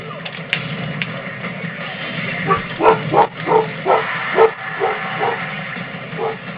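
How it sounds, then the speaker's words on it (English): A dog barks repeatedly in a steady series of sharp woofs over a constant low rumble of background noise. "my dog is barking"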